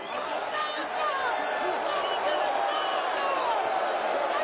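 Steady roar and murmur of a wrestling arena crowd at WWE Hell in a Cell during a Charlotte versus Sasha Banks match, a dense, continuous wash of noise without letup, with a commentator talking over it.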